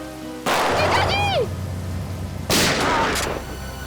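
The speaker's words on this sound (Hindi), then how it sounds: "बहुत शौक है गोली चलाने का है?" Two sharp bursts of gunfire ring out a couple of seconds apart, loud and close, each followed by a ringing, whistling tail, in an episode of the Hindi TV crime drama CID.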